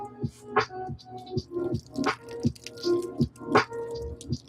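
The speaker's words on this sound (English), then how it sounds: "Let's get that dirty water out from last shoe." Dirty water drips and squishes out of a Jordan sneaker during cleaning, a close series of irregular wet plops and drips with soft squelching, loud and near, without talk.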